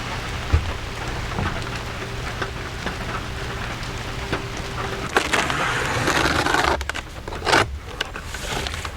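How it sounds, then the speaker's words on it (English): Rain drums steadily on a trailer roof with scattered heavier drips, then grows louder and rougher toward the end, with a rumble like distant thunder. "Every time I come to the trailer, it rains."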